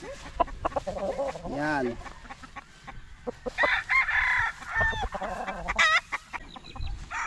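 Gamefowl rooster of a high-station, red-eyed bloodline clucks in short bursts, then gives a clear crow close by, with someone talking intermittently around it.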